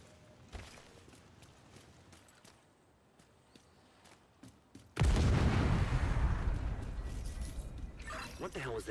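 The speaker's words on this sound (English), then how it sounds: "That was an explosion." A sudden loud explosion in a military shooter video game: quiet ambient sounds with a few sharp clicks, then a heavy boom at about five seconds that rumbles on, a broad roar slowly settling.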